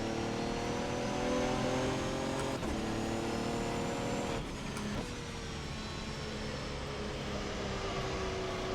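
A Le Mans prototype race car engine in the rFactor 2 sim racing game, with a sustained high-revving drone and gear-shift dips, moderately loud and continuous without speech.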